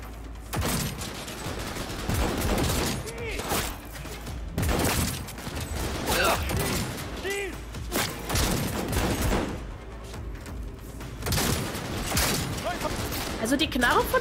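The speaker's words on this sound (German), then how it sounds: "Also die Knarre von Johnny ist schon... Die hat Wumms." Heavy gunfire from Johnny's gun in the video game Cyberpunk 2077, loud repeated bursts and booming shots recurring through a chaotic firefight, mixed with game sounds and voices.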